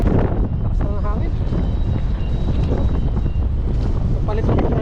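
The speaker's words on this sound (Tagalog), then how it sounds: "Lakas ng hangin." Strong wind roars against the microphone in a constant low rumble while a person speaks over it.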